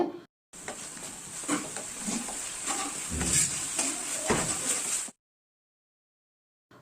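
Ginger and garlic sautéing with prawns over a medium flame, a steady close sizzle with stirring scrapes for about four and a half seconds, then silence.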